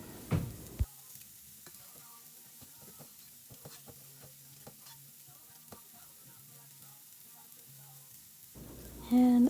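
Chicken meatballs browning in a skillet give a quiet, steady sizzle with scattered light pops and utensil taps, bracketed by louder handling noises at the start and end.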